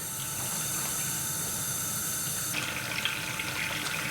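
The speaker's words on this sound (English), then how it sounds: "I activated the pump." A pump pushes freshly brewed wort from a Braumeister 10L into a fermenter, giving a soft, steady watery rush with faint splashing that turns slightly brighter partway through.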